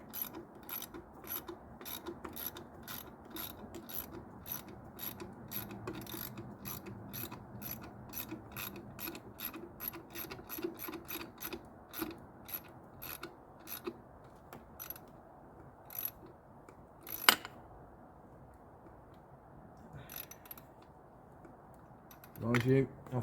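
Ratcheting clicks from a tool tightening a small screw on the fuel filter housing of a 2005–2007 Chrysler 300C CRD diesel during servicing, a rapid run of close, crisp clicks that slows and thins out, with a few louder knocks near the end.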